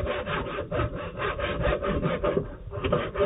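A hand saw rips lengthwise along the grain of a wooden carport post in steady back-and-forth strokes, rasping rhythmically at close range with no talking.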